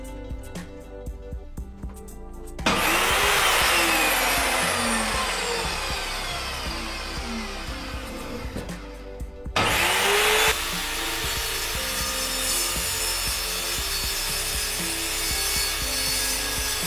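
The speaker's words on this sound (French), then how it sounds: "Maintenant on va tester la fonction radiale avec un petit morceau de composite." An Evolution R210SMS+ radial mitre saw cuts a small piece of composite in its sliding radial mode. There are two loud, sustained cutting passes, each starting with a sharp rise, over a steady motor whine, and no talking.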